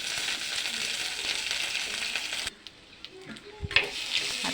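Mustard seeds and curry leaves sizzle loudly in hot coconut oil in a pan for a mussel curry. The hiss drops off sharply midway, then a few crackles and stirring knocks follow.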